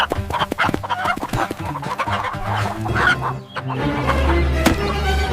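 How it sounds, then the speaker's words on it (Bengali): A chicken in a village clucks repeatedly and excitedly nearby, with busy background noise and some scuffling throughout. "ওই মুরগিটা মিন্টুর নোট নিয়ে পালাইলো"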